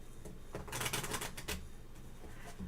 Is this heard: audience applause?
no